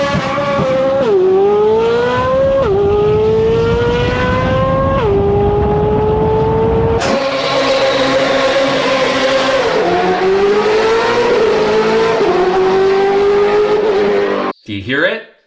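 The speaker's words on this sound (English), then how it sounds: "Do you hear it? Those burnouts, the shifting." A loud V8 race car engine in a BMW M3 GTR screams through rising revs, dropping in pitch at each gear shift, with tire squeal and burnout roar continuing throughout.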